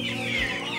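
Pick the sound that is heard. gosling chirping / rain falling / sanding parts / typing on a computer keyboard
gosling chirping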